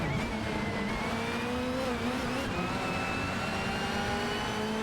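Opel Vectra and Peugeot 406 race cars in a racing video game, engine tones droning and shifting pitch steadily as they accelerate, a continuous layered motor whine with no voices.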